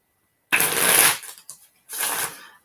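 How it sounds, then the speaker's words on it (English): Two quick bursts of cards being riffled and shuffled close by, the first longer, followed by a short rustle and a second riffle. "Let me get them shuffled up here."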